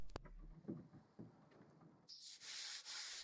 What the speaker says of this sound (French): je suis passé directement au ponçage à la place, et j'ai décidé de le faire à la main